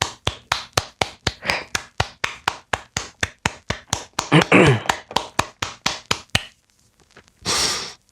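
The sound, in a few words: people clapping hands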